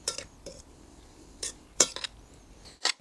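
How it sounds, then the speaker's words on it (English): Marinated onions being mixed with pepper, sugar and salt, likely with a utensil in a dish: a few short, separate clinks and scrapes of metal against the bowl, close and fairly quiet, with soft stirring between them and no talking. "Now we mix all of this thoroughly."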